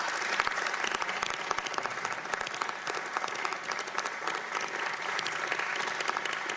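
Members at a House Judiciary Committee hearing applaud in a steady, dense round of clapping from a roomful of people, sounding slightly distant and continuing evenly for several seconds.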